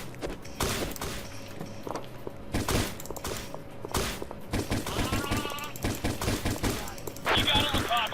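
Gunfire in the video game Insecticide: a string of loud, punchy shots at an uneven rhythm, mixed with game sound effects and a steady background tone, while players talk over it.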